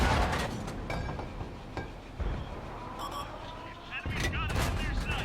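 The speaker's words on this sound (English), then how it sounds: "So I'm getting shot at from across the way from that medium." Tank cannon fire in World of Tanks on PS4 as a medium tank shoots from across the map: several sharp, loud blasts and impacts in a busy battle soundscape, with some clanking mechanical noise between shots.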